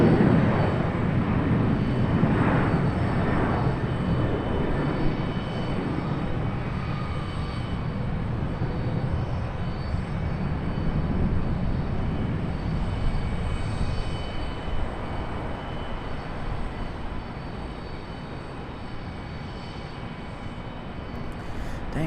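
A Boeing 737 jet airliner passes near Charlotte Douglas International Airport, a broad steady engine roar loudest at the start and slowly easing as it moves away, with no talk over it.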